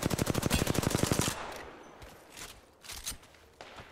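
Automatic weapon fire in the Apex Legends battle royale, with Lifeline in play: a fast, loud, evenly spaced burst of about a second, then a few scattered, fainter shots.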